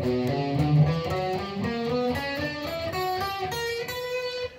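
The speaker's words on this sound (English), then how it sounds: "you get a scale called the harmonic minor, which sounds like this." A run of plucked guitar notes steps upward through a harmonic minor scale, exotic-sounding, each note ringing briefly, played alone at moderate volume.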